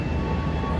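Ranggajati New Generation passenger train running backward, heard from inside the carriage as a steady low rumble with a continuous hum and a faint high whine, no talking.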